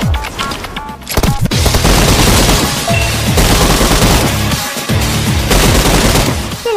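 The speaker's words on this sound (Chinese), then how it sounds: "有人开枪" Loud, dense gunfire from the battle-royale video game Peacekeeper Elite, with rapid automatic bursts, sharp single shots and heavy booms overlapping almost continuously, with a short lull near the start. No one speaks over it.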